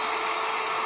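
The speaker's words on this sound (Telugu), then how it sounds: "మన మిషన్ అనేది ఆన్ అయింది." A portable 3-in-1 car vacuum cleaner running with a steady, close, high-pitched motor whine and airflow hiss.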